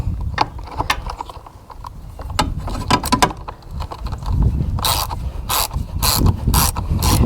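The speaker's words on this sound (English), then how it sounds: "we're going to have to just use the ratchet all the way" A ratchet wrench clicks rapidly in repeated bursts while turning 10 mm bolts on a John Deere z225 mower. The loud, close ratcheting comes in short runs separated by brief pauses.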